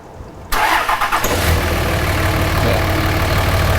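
A 2005 Dodge Ram truck engine cranks and fires after a quiet moment, then settles into a loud, steady idle with a deep low rumble close by.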